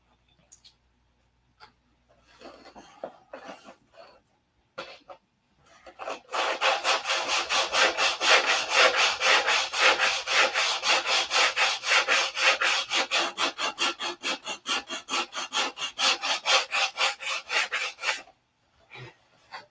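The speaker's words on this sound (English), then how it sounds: "I could spend some time sanding it to get the weight down" Steady back-and-forth rasping of sandpaper on a wooden model airplane, fast and rhythmic strokes close up, after a few scattered scrapes.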